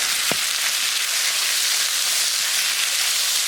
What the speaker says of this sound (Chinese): 锅里少倒点猪油，直接炒酸菜